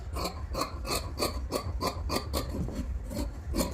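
Scissors cutting blouse fabric during a tailoring class, a steady run of about ten rhythmic rasping snips repeating roughly every third of a second, close and fairly quiet, with no talking.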